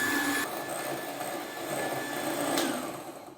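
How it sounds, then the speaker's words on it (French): Electric mixer beating eggs with sugar, a steady whirring motor hum with a high whine, close and continuous, its tone shifting slightly as the beaters move through the mixture. "Pendant 10 minutes, on va battre les œufs avec le sucre."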